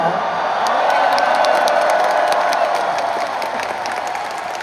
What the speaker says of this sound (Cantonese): 請鼓下掌